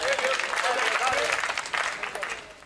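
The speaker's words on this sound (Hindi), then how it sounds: "एक बार ताली माली तो बजाओ।" An audience at a Hindi comedy poetry show applauding, a steady rush of clapping under a speaker's voice that carries on over it.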